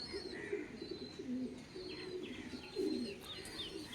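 A male pigeon kept indoors coos softly and repeatedly in low murmuring bursts, faint and close, with a few light chirps over a quiet room.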